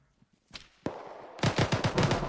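Airsoft guns fire in rapid bursts during an outdoor skirmish game, the sharp repeated shots growing denser and louder toward the end after a few scattered single pops.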